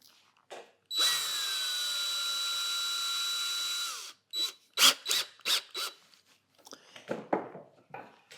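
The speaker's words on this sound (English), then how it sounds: "to make sure that I'm not drilling into my wheel" An electric drill whirs steadily for about three seconds while drilling a screw hole beside an electric pottery wheel, winding down as it stops, followed by a series of short clunks and scraping handling noises.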